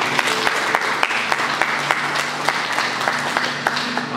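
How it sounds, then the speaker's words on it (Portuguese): A church congregation claps together during a Sunday morning service, a steady crowd applause with scattered sharper claps, filling the room evenly for the whole stretch. "Vamos aplaudir o Senhor mais uma vez."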